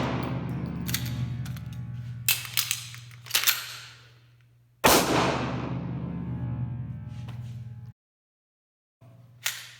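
Sig P320 M17 pistol shots ring out close and loud, several sharp cracks in uneven bursts with ringing decay, separated by pauses and a brief silence.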